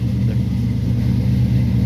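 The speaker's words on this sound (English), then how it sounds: "It ain't wanting to start too easily, but we'll still try." A 1967 Plymouth Barracuda that has sat for about a year cranks and rumbles, its engine catching with a steady, loud low growl close by for a couple of seconds.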